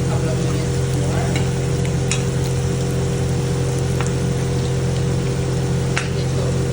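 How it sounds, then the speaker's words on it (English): Potatoes fry in a pan for a green mutton pulav, with a constant loud sizzle and a few faint scraping stirs over a steady hum. "here we will stir the potatoes"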